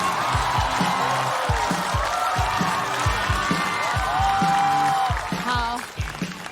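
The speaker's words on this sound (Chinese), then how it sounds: "掌声有请嘻哈" Audience applause and cheering for a stand-up comedian at a comedy competition show, with loud, sustained clapping and crowd noise that carries over music and fades near the end.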